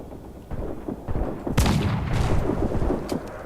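Swivel gun blasts aimed at a schooner's crew in Assassin's Creed 4, a few heavy booming reports standing out over a rumbling naval battle backdrop, loud and close, with no talking.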